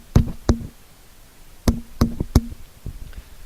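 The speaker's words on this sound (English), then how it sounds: "There was a knocking at her window." Knocking on a window at night: two quick raps, a pause, then three more sharp knocks and a softer trailing tap, close and distinct against a quiet room.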